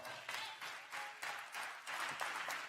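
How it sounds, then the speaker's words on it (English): Graduation crowd at Green Street Academy applauding in a hall, rolling waves of clapping that swell and dip in distinct surges, loud and close with no talk. "Give yourselves another round of applause."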